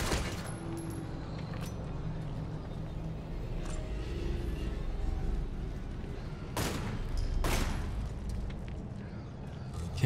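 Automated turret firing in Resident Evil 7 Biohazard's Not a Hero DLC, a few loud, sharp bursts of gunfire scattered across a rumbling game soundscape, with two strong shots near the end.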